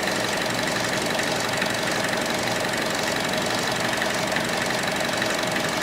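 A 2014 Buick Encore engine idles during a transmission flush, giving off a continuous, even mechanical hum with a fine ticking texture, close and steady with no talk.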